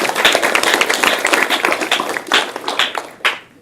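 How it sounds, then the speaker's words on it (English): A small audience claps for a panel at a discussion on Philadelphia housing affordability, close and distinct individual claps in a brisk patter that thins out and stops near the end, with no talk. "let's give a quick round of applause for our panel"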